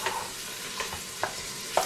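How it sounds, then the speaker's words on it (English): Chicken browns in a pot for chicken cilantro soup, giving a quiet, steady sizzle with a few soft stirring scrapes and clicks. "we're just browning this all up"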